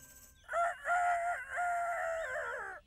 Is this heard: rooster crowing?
yes